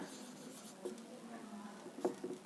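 A teacher writing on a classroom board, faint scratchy strokes and a few small taps in a quiet room, alone without speech.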